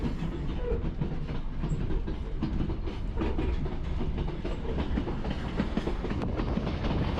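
A passenger train rolls from Puno toward Cusco in Peru, heard from inside as a steady rumbling ride with continuous rhythmic clickety-clack of wheels over rail joints.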